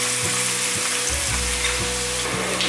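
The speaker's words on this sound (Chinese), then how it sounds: "炸至这样，稍微有点变色之后，就可以捞起来了。" King oyster mushroom pieces deep-fry in hot oil, a loud, close, continuous sizzle with occasional soft knocks from stirring.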